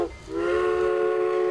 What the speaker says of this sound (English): The train is getting closer, Mooseman.